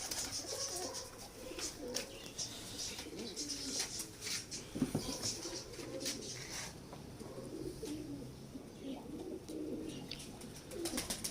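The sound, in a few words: Hira Lal pigeons cooing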